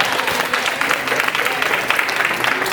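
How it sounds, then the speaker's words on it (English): A room full of people claps for Brenda at a college Upward Bound debate demonstration, the applause steady and fairly dense with individual claps standing out. "give a round of applause for Brenda"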